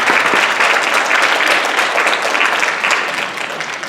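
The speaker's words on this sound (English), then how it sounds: "Jordan and Lucy, stand up and receive a applause" Loud, sustained applause from a concert audience honoring high school honor band students, a dense wash of clapping that tapers slightly near the end.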